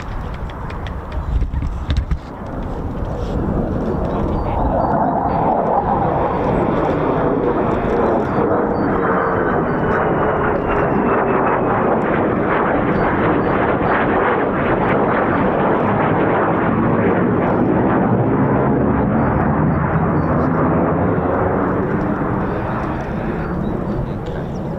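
An F-15 or F-35 fighter jet flying a precautionary flame-out approach at RAF Lakenheath gives a loud, sustained roar that swells in and holds steady for most of the pass before easing slightly at the end.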